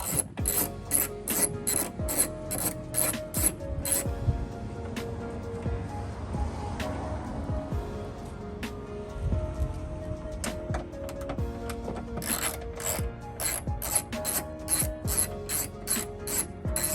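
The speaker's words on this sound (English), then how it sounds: "we have 4 more bolts to take out that holds the taillight in" A ratchet backs out taillight bolts on a 2018-2022 Honda Accord, with steady rapid clicking in close bursts that pause briefly mid-way and then resume, alone without talk.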